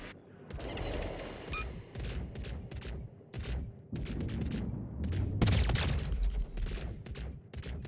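In World of Warships: Legends, a warship's main naval guns fire in repeated heavy booms and cracks over a dense, continuous battle din, loud and close.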